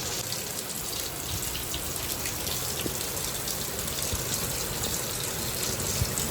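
Heavy rain pouring down outside a home, a dense, constant hiss of falling water that stays loud and even throughout, with no voices.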